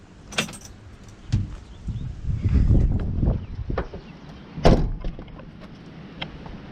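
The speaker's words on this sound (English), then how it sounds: "So I'm gonna key the truck off." Keys jangle and click in the ignition of a bucket truck as it is switched off, a few sharp metallic rattles standing out close up over a low background rumble.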